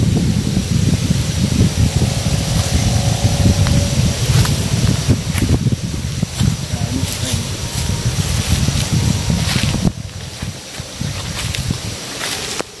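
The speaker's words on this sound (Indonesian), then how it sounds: "Ini anginnya baru kencang lagi." Strong gusts sweep through a bamboo grove near a graveyard, a loud, continuous rumbling roar of wind buffeting the microphone with rustling foliage, easing slightly toward the end.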